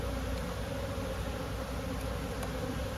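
Honeybees hum at an opened hive that has been stocked with sugar and pollen cake in early season. The buzzing is a constant, even drone with no pauses, close and moderately loud.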